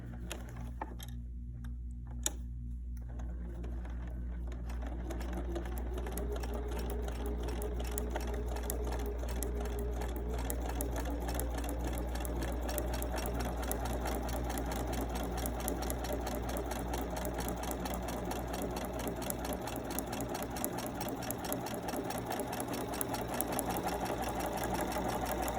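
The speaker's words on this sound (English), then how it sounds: "I'm going to go and sew down on that line" A sewing machine runs in a long, steady close-up whir while stitching a quilt block along a marked line, with a faint rhythmic ticking of the needle throughout.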